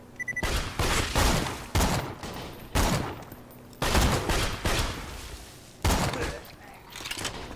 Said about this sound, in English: I'm currently using a pistol as a sniper.